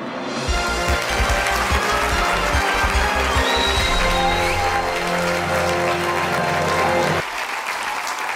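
Applause from a studio audience in the Millionaire Simulator quiz game rises into dense clapping and carries on steadily for several seconds before cutting off abruptly near the end.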